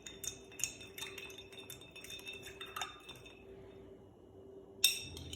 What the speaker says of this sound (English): Stir those up with our bar spoon.